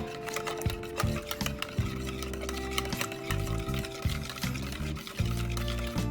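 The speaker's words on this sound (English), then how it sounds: "So I'm gonna whisk it now." Eggs and almond milk whisked in a silicone bowl, a close, steady scraping and sloshing that runs without pause, with no talking over it.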